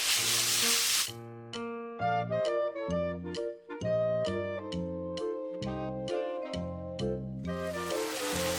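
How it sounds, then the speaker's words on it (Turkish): Sizzling from 250–300 grams of ground meat frying in a hot pan for Turkish börek filling, loud at the start and end, with steady melodic music playing over the middle. "içine 250-300 gram kadar kıymayı ekleyip iyice kavuruyorum"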